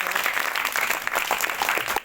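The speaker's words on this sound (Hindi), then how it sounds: "एक बार तालियां बजाओ" Students in a tuition classroom applauding a classmate, a dense steady patter of clapping hands filling the whole stretch at moderate level with no talk over it.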